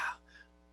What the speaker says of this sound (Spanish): la tos seca, que es una tos parecida a esta